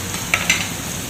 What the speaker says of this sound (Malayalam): പകുതി സവാള അതിൻ്റെ കൂടെ മിക്സ് ചെയ്ത് ചേർക്കും.